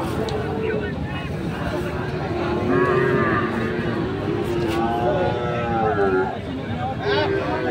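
Sahiwal-breed bull calves being fattened for sale low and moo at Ambari cattle market in Dinajpur, several drawn-out calls rising over a busy crowd murmur and nearby voices.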